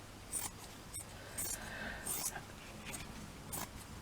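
Fabric being cut into a circle with scissors, a linen or cheesecloth-like cloth, giving several short, faint snipping and rustling bursts spaced through a quiet room with soft breathy sounds.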